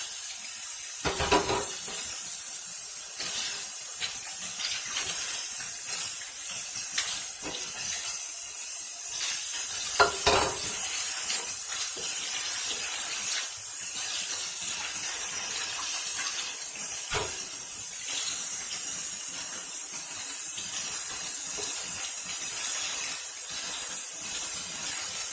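Tap water runs into a sink while chicken gizzards are rinsed, a continuous hissing flow with occasional louder splashes and sloshes as the pieces are handled.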